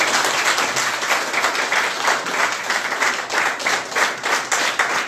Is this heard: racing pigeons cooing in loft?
no